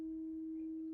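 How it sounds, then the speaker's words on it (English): A steady 320 Hz sine test tone at 4 volts peak to peak plays through a Klipsch SW-450 subwoofer under repair, one continuous pure pitch holding for the whole moment with faint low rumble beneath. "I'm going to put a 4 volt peak to peak signal through. Currently got it at 320 hertz"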